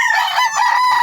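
A backyard-raised rooster crows loud and close, one strained, harsh call filling the whole brief moment with no other sound competing.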